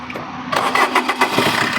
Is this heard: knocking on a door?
no